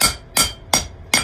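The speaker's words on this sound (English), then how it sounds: "it is peening over so easy with a ball peen hammer" A ball peen hammer peens cold mild steel in four sharp, evenly spaced metallic strikes, each ringing briefly before the next, close and loud.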